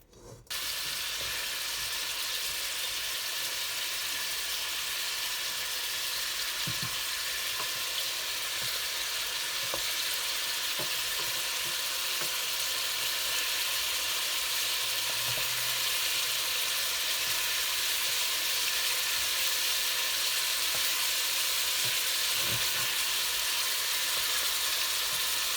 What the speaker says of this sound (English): I'm using sunflower oil, and I'm going to start frying the kafta little bit, just a little bit.